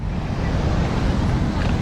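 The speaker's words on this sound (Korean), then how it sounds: "그리고 지금 파도가 엄청나게 시원해" Ocean surf on a wide beach in Lombok roars loudly and continuously, mixed with heavy wind buffeting the microphone.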